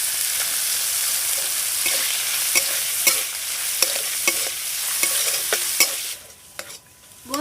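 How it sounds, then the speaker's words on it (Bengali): Khoya kheer frying in ghee sizzles loudly and steadily while a spoon scrapes and taps the pan at intervals; the sizzle drops away sharply near the end, leaving a few scattered knocks. "এই খোয়া ক্ষীরটা হালকা লাল লাল করে ভেজে নেব।"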